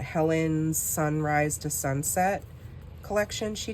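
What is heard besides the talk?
None of the usual background noises is heard.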